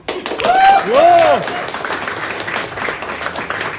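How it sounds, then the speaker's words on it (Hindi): An audience claps steadily after the comedy stage play Chandu Ki Chachi by a Mumbai theatre group. The applause is moderately loud, with a brief whistle early on and voices over the clapping. "सबसे पहले आप सभी के लिए जोरदार तालियां"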